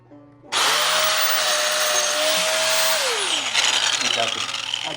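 Angle grinder working metal on a small-block Chevy engine run stand, a loud, steady high-pitched whine that starts abruptly after a quiet moment and holds for several seconds before its pitch sags as the wheel bites and slows.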